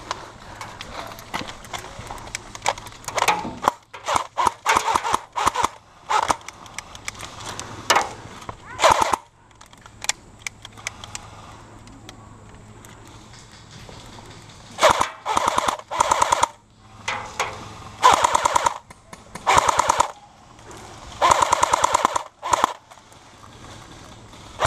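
Polarstar paintball guns fire in rapid bursts and strings of shots during an outdoor attack-and-defend game, with quiet gaps between the volleys.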